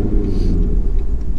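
A C7 Corvette fitted with an AWE exhaust gives a deep, loud, continuous engine rumble with low burbling pulses during a downshift, heard up close with no talking.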